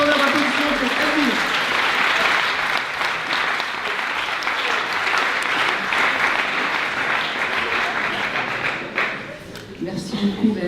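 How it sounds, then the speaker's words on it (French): A conference audience at INSA Toulouse bursts into sustained, loud applause that fills the room from start to finish and tapers slightly near the end. "un tonnerre d'applaudissements pour Elvire"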